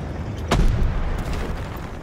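A single tank cannon shot in the Armored Warfare Assault mobile game lands as a sudden deep boom, then a rumbling tail that fades over a steady background.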